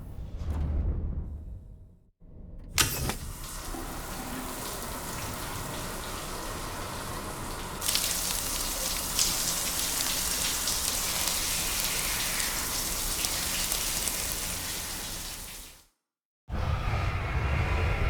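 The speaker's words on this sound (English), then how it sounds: "Rainy!" Steady heavy rain in the video game Death Stranding 2, a dense hiss of drops pouring continuously for many seconds after a short opening, briefly cutting out near the end.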